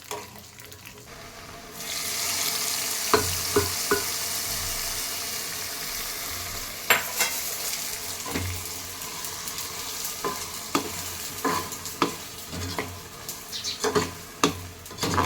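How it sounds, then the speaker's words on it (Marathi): Grated carrot sautéed in a pan for carrot halwa, a steady close sizzle broken by repeated sharp scrapes and taps of a spoon stirring, with no speech. "थोडंसं परतून घेऊया"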